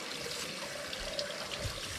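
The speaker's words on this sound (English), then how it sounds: "now I'll just take some water and start flushing things out and try not to make a mess" Water poured and flushed through a deer skull while cleaning it for a European mount, a faint steady trickle and splash that runs on without pause, with no talking.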